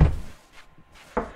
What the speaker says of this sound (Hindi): कितना पटक रहा है दरवाजा